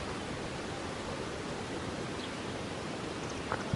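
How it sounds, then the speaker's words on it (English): Strong wind storm gusting steadily near Cambridge City, Indiana, a dense, unbroken roar that stays loud and even throughout with no voices. "the winds are starting to come on"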